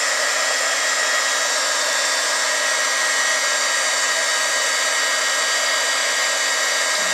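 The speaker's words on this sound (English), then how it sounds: "now we're going to take the embossing gun and go ahead and heat that" An embossing heat gun blows a loud, steady, continuous whir up close as it heats embossing powder, with no change in pitch or level throughout.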